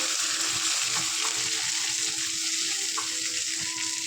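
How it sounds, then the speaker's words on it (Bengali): Peas and carrots fry in hot ghee for a flattened rice pulao, giving a steady, close sizzle with faint stirring and small scrapes, and no voices. "এখন আমি ঢেলে দেবো মটর আর গাজর।"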